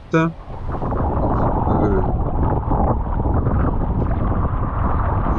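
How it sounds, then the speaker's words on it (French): Strong east wind at Cap Falcon roars steadily across the microphone, a dense continuous rush, with a short voice-like blip at the very start. "je vous ai mis le son plein pot de ce vent d'est qui vient taper sur le cap Falcon"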